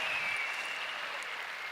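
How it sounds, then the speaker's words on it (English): An audience at a large corporate motivational event claps together in a steady, dense wash of applause, heard from a distance and fairly faint, with no distinct individual claps standing out. "Clap for yourselves."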